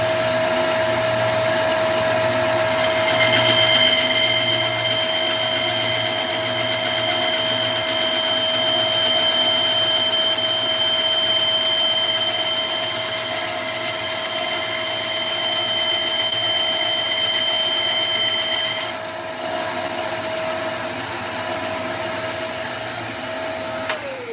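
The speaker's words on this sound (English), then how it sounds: "Let's put the vacuum on." A vacuum cleaner runs in a workshop with a steady, loud whine and roar that holds for the whole stretch, dipping slightly near the end, with no talk over it.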